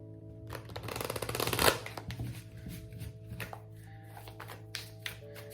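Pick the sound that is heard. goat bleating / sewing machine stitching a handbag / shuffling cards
shuffling cards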